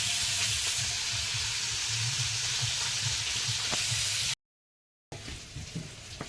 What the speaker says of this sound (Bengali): এদিকে মাছটা ভাজা হচ্ছে